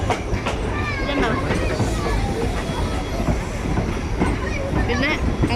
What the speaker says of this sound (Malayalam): ഫൈനലി ആ ട്രെയിൻ കയറി.